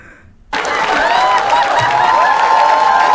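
A studio audience at a TV talent show breaks into sudden loud applause after a brief quiet moment, with dense clapping and some cheering sustained to the end.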